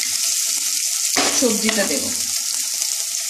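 Chicken stew base frying in a pan, a steady broadband sizzle throughout that swells louder when vegetables hit the oil midway, with brief stirring scrapes and a voice speaking over it.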